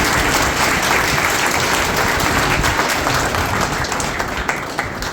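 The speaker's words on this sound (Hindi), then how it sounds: "ताली तो हो जाओ" Audience applause at a Brahma Kumaris spiritual class session, a steady wash of clapping from a sizeable crowd that holds at full volume for the whole stretch with no talk over it.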